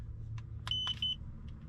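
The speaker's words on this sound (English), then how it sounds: "my TPMS is beeping at me" A few short, high tire pressure monitor warning beeps, then a couple of fainter chirps, over the low steady rumble of an idling dually pickup truck.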